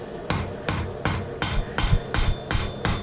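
A hammer strikes a Damascus hunting knife with an integral guard on the anvil during forging, landing about eight loud, evenly spaced ringing blows with no one talking.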